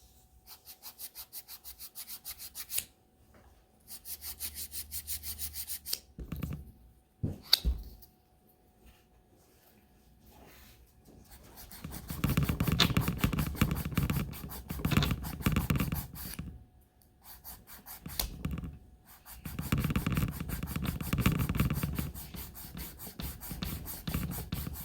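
A 180 grit nail file rasps across a sculpted acrylic nail near the back edge, in bursts of close, gritty back-and-forth strokes broken by short pauses, with no talk.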